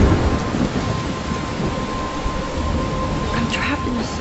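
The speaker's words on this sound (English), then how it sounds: "I'm trapped in a storm?" Thunderstorm in Life Is Strange: a continuous wash of heavy rain with low rumbling thunder, steady and fairly loud throughout.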